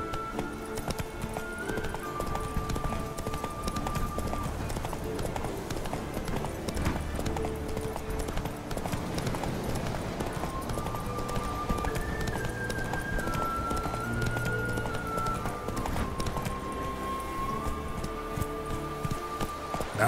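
The horse Roach galloping in the video game The Witcher 3, a steady rhythmic clip-clop of hooves continuing throughout under in-game music.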